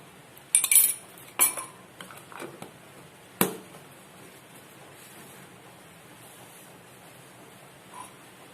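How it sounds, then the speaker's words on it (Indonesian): A spoon stirs rice washing water and palm sugar for MOL tape, clinking a few times against the container before the stirring fades to near quiet. "Kita masukkan cucian beras. Kemudian kita masukkan juga gula merah. Kemudian kita aduk."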